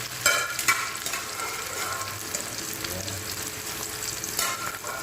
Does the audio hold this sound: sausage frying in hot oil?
yes